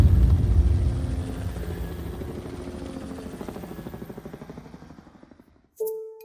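A helicopter at the Fort Worth Helicopter Institute beats its rotor in a steady thumping rhythm, loud at first and then fading away into the distance. A short, clean tone sounds near the end.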